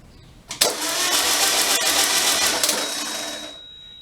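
A 36hp Okrasa engine is cranked and catches, a loud broadband mechanical roar that starts abruptly, holds steady for about three seconds, then fades out, with a thin high whine lingering near the end.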